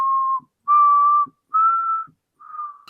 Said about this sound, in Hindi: तभी उसको अपने पीछे से फिर से सीटी की आवाज आई।